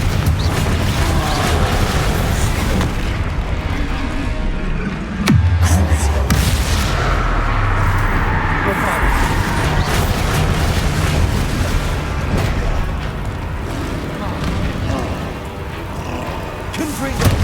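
Spell blasts from Confringo and Bombarda in Hogwarts Legacy, rumbling booms and crackling bursts repeating through the stretch, loud and dense, with a voice shouting over them.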